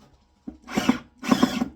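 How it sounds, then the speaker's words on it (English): A Black & Decker power drill drives screws into a raised garden bed in two sustained whirring bursts with a short pause between them, close and clear, with no talk over it. "You need to get yourself a good drill"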